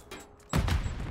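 A grenade blows up in a Call of Duty MW3 match, one sudden close boom that cuts in after a quiet moment and rolls out with a rumbling tail.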